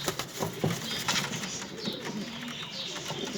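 Soft cooing from bango pigeons in a coop, low overlapping calls at moderate distance with a brief flutter of wings, quiet and without talk.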